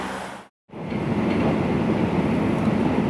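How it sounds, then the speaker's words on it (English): Steady rushing rumble inside a Shinkansen bullet train heading south from Tokyo, broken by a brief dropout near the start before the loud continuous roar resumes. "on our train ride south out of Tokyo on the Shinkansen"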